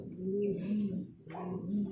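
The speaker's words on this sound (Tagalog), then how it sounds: "ipapakita ko muna sa inyo yung aking ibon na umuwi kahapon" A homecoming pigeon coos in soft, low, rounded notes, close by, with faint chirps and background noise around it and no talk.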